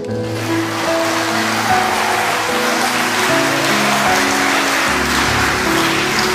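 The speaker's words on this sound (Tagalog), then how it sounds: "ang hina ng palakpak mo" A church congregation claps in sustained, dense applause, loud and even throughout with organ-like sustained tones underneath and no voices.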